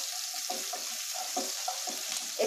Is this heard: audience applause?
no